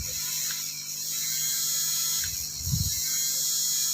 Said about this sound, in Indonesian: Lihat kipas fan akan berputar ketika tombol starter ini ditekan.